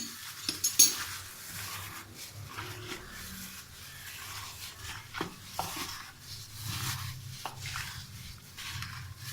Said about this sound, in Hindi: इसको मिक्स कर लेते हैं।